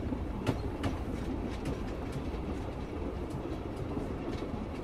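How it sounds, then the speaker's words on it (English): A passing commuter train rumbles steadily, with rhythmic clicks of wheels over rail joints and a faint metallic squeal, close and unbroken. "Commuter train."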